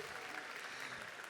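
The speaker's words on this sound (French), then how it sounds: "Je pense qu'on peut l'applaudir quand même." Audience applause at an anime awards ceremony, a continuous wash of clapping from a crowd, moderately soft and steady with no voices on top.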